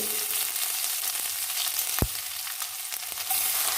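Five dried red chillies, curry leaves and crushed ginger and garlic fry in hot oil for a roasted-coconut Kerala chicken curry. The sizzle is loud and steady, with one sharp knock of a stirring spoon midway.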